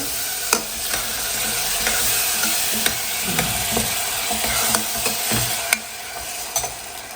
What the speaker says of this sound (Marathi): ही तीन ते चार मिनटं टोमॅटो प्युरी छान आपल्याला परतून घ्यायची आहे तेल सुटेपर्यंत